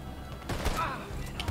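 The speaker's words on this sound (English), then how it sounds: "Oh, we're just shooting now." Gunfire in Red Dead Redemption 2, a couple of muffled shots in quick succession during a shootout, mid-level and blended with game ambience.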